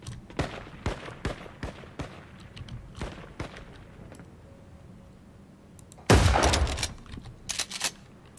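Gunshots in a video game: a string of sharp shots at uneven intervals, fairly close, then a louder, denser volley near the end, with only faint background sound and no talk.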